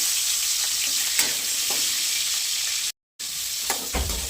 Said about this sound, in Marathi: थोडं थोडं करून पनीर तळून घेणार आहे